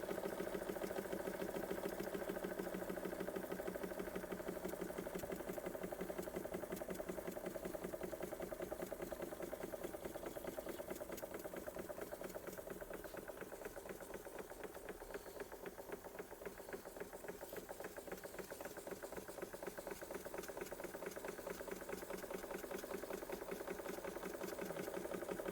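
A Bing 130/382 poppet valve model steam engine runs after a light restoration, chuffing in a fast, even mechanical rhythm with a steady whirring hum, close and continuous for the whole stretch without speech.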